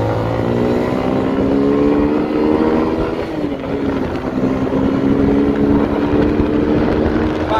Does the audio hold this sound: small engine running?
yes